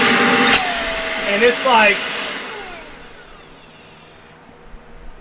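A small handheld micro vacuum cleaner switches on with a loud whirring motor whine that rises in pitch, then fades and settles to a quieter hum, with a person talking briefly over it.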